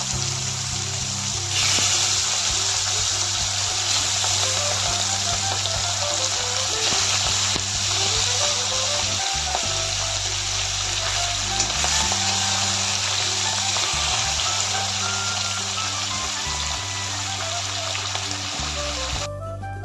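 Hilsa fish pieces frying in hot oil, a steady close sizzle and crackle running without pause, with faint clinks of a utensil now and then.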